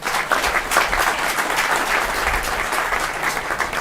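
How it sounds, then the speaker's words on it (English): At an Atlanta affordable housing announcement, a crowd applauds Ms. Freeman with dense, sustained clapping that stays loud and even throughout. "Let's give her a round of applause."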